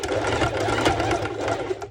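A sewing machine runs steadily close up, top stitching a swim skort with built-in bottoms, a continuous fast mechanical whir with a few slight dips in speed and no talk.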